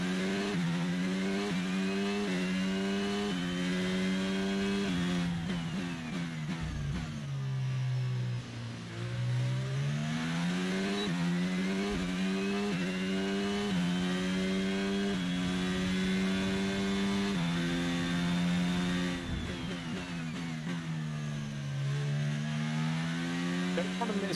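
A Formula 1 car engine in the racing game F1 22, revved while warming the tyres: a sustained, high-pitched whine that climbs and dips repeatedly as the revs rise and fall, loud and steady throughout.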